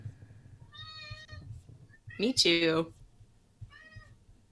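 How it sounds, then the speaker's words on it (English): Two cats meow indoors, a short mewing cry near the start and another near the end, with a person speaking briefly and loudly between them. "They're both over here meowing."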